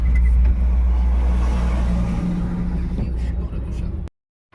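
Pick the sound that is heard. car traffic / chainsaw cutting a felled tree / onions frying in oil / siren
car traffic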